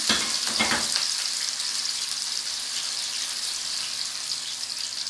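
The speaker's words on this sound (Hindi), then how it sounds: "इसको हमने इसके साथ अच्छा सा फ्राई करना है।" Dry fruits frying in melted sugar in a pot for Kabuli pulao, a continuous bright sizzle with a couple of stirring clatters near the start, steady and close with no talk.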